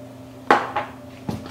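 Seasoned food is set down onto a pan in two soft clunks with a brief scrape, close and fairly quiet, with a low steady hum underneath.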